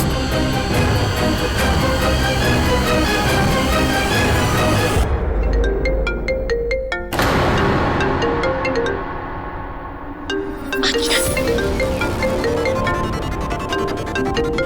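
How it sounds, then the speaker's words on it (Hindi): A phone ringtone plays on and on, a loud, melodic electronic tune that repeats for about fifteen seconds with brief breaks. No voices are heard with it. "फोन उठाइए"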